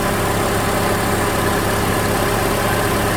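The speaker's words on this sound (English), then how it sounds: "I've got the AC on right now and I hear the radiator cooling fan running" 2008 Honda CR-V 2.4 with AC switched on idling, its radiator cooling fan running, a loud steady engine drone and even fan whoosh that hold constant throughout with no talk.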